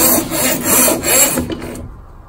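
A kitchen faucet's pull-out hose slides in and out, giving a close rubbing, rasping friction with a few swelling strokes that taper off into quiet.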